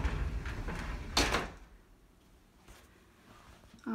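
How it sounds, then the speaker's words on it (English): The sliding doors of a bedroom closet in a house in Cortland, New York, are pushed open and shut: a loud rolling slide near the start, a quiet stretch, then a sharper knock as a door stops at the end. "It has sliding doors"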